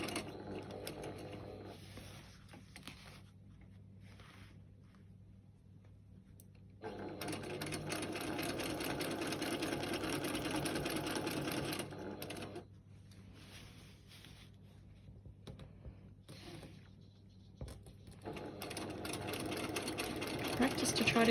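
A sewing machine stitches free-motion quilting of large feather plumes in bursts of steady mechanical whirring, alternating with quieter pauses where a voice talks over the hum.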